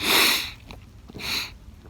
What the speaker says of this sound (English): I've been fighting this cold, and I got some sniffles